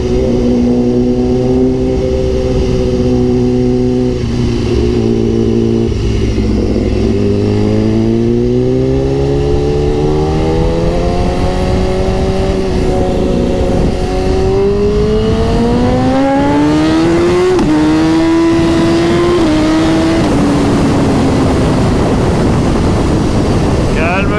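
A BMW S1000RR sportbike accelerating hard on an open road, loud engine revving up through the gears with rising pitch and brief shift dips, heavy wind rush throughout, with a rider talking over it.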